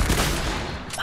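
A hunting rifle gunshot in a video game, a single loud, close blast that fills the whole moment before a faint sharp tail at the end.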